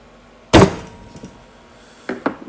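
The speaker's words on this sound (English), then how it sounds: "The next thing I want to do is take my punch and punch a hole" A center punch strikes a wooden board for a camper bench to mark a drilling point: one sharp, loud knock, then two quicker, lighter taps about a second and a half later.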